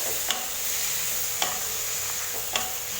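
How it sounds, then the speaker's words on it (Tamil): Chopped tomatoes sauté with masala powder in a pan for a Tamil-style brinjal and cowpea kara kuzhambu, giving a steady soft sizzle broken by three sharp spoon scrapes against the pan, close and clear with no talking. "தக்காளி பழத்தை சேர்த்துட்டு நல்லா மிக்ஸ் பண்ணி வதக்கி எடுத்தாங்க"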